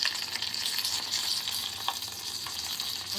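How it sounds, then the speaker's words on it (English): Oil sizzles steadily in a hot pan while a pizza panini fries, a close, continuous crackling hiss with a few brief pops. "you can see that the oil is going to sizzle"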